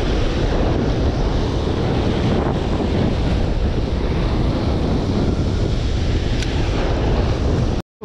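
Loud, continuous roar of heavy surf crashing nearby, with wind buffeting the microphone throughout and no voices.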